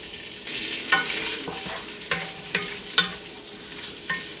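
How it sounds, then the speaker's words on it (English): Sausage sizzles and crackles in a pot coated with oil while a spoon stirs it, with a constant frying hiss broken by several sharp scraping knocks spread across a few seconds. "now we're going to throw in our sausage"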